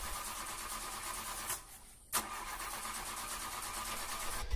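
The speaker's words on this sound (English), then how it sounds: "so after spraying the starter fluid, the car started up" A barn-find car with bad spark, sprayed with starter fluid: steady cranking, a brief pause, then a sharp catch as the engine fires and settles into a rough, uneven run close by.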